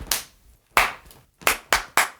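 Five sharp hand claps, loud and close, in an uneven rhythm with short pauses between them and no talking.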